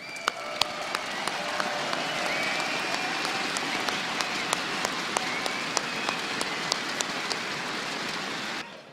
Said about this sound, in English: I think that we should all clap for them now